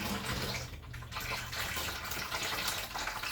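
Blueberry wine liquid splashes and gurgles steadily as it is poured, a close, continuous wet rush with small fluctuations and no voices.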